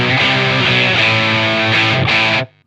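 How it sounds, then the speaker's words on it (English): Sustained distorted electric guitar chords through a tight modern distortion pedal with a compressed crunch, loud and close, ringing out before cutting off abruptly. "So it's fairly tight, kind of modern distortion."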